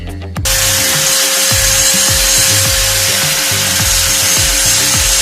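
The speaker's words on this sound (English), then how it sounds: "You are about to grind a fire starter in your house." An angle grinder running indoors, grinding a ferrocerium rod fire starter, with a loud, steady high whine after a quick start and repeated scraping strokes as the rod is pressed against the disc.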